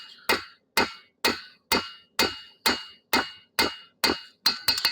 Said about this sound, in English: Switch back to the rounding hammer.